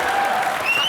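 Studio audience applause on a comedy show, a short, bright burst of clapping from a crowd, loud and close, lasting under a second with no talk.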